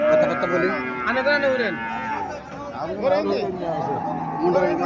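A local dairy cow lows repeatedly at a Cumilla cattle market, close and fairly loud, amid steady crowd chatter and talk.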